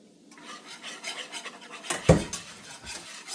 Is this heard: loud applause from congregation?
no